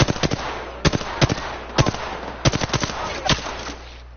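Enemy gunfire in the video game Apex Legends, with a series of sharp, loud shots in irregular bursts and single cracks over a steady low game hum.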